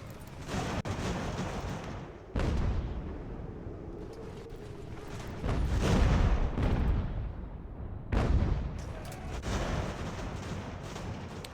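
Artillery fire in Ultimate General: American Revolution, repeated heavy booms and rumbling blasts over a continuous battle din, several louder strikes spread across the stretch, no talking.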